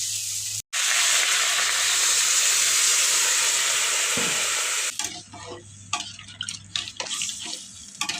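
Water poured into a sizzling rohu fish and taro curry, a loud steady hiss that cuts off abruptly midway into quieter bubbling and irregular stirring clicks.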